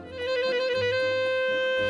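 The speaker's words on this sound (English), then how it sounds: "This is a miniature version of a horn instrument called a clarinet," Miniature clarinet playing a warm, sustained melody of a few held notes, close and clear with rich harmonics and no talking.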